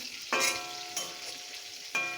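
Singi fish fry in hot oil under a lid, a soft close sizzle with a few sharper crackling bursts spaced across a short stretch.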